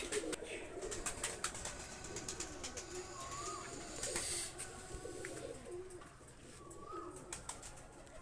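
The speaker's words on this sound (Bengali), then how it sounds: "এই দুইটা কবুতার খুবই ভালো মানের কবুতার দুইটা কবুতার আমি ছেড়ে দেখাচ্ছি" Pakistani highflyer and royal teddy pigeons coo softly and repeatedly at close range, with faint chirps and background rustling in a quiet setting.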